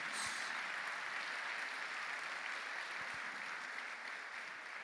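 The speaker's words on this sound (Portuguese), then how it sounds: "Dê uma salva de palmas a esse Deus poderoso" Dense, sustained applause from a large church congregation fills the space during a service, steady and loud throughout with no voices standing out.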